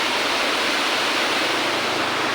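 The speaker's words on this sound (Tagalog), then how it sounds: "Okay, so balik ta diri sa may falls." A waterfall in Valencia, Negros Oriental, Philippines rushes in a dense, steady roar of broadband noise, loud and close with no break and no voices.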